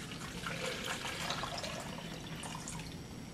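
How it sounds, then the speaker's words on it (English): About 971 milliliters of water pours from a measuring cylinder into a bucket, a soft, continuous splashing trickle that stays steady and fairly quiet throughout. "I'm going to dump this into our oceans bucket"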